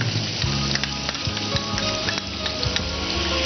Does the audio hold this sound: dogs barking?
no